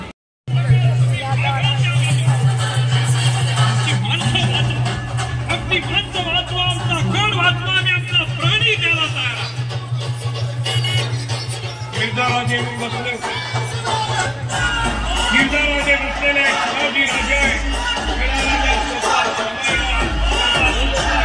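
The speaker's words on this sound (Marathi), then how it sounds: "गर्दी बघा किती आहे, मला ते इकडून काही दिसतच नाही." A large festive crowd murmurs and shouts near a Shivaji Maharaj statue display, a steady loud hubbub with a sustained low drone and drum-like thumps joining toward the end.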